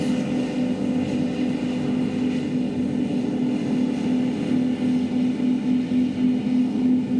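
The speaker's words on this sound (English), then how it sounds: "The drone of the SPMTs taking out booster 20." SPMT heavy transporters moving SpaceX Booster 20 give off a steady, unbroken low drone with a constant hum, heard from a distance and holding at an even level throughout.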